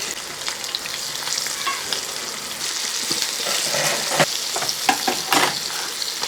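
Anchovies sizzle in a pan of hot oil as they are turned, a continuous crackling fry punctuated by sharp spatula scrapes and taps, close by and without speech.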